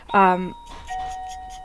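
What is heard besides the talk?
doorbell ringing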